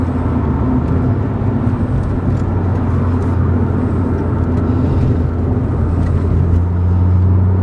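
A 2009 Volkswagen Polo GTI 9N3 hot hatch drives along at low revs, its engine a steady, loud, deep drone mixed with road rumble from inside the cabin, with no voices.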